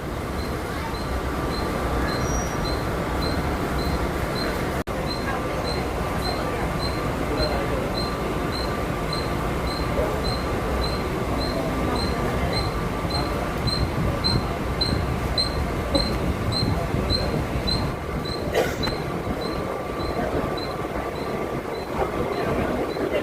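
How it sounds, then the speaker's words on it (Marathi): A Mumbai suburban fast local on the Churchgate–Virar line rumbles along steadily with rhythmic wheel clatter and a faint periodic electrical whine, cabin noise close and constant, with indistinct voices in the background. "प्लॅटफॉर्म क्रमांक 4 वर आलेली लोकल"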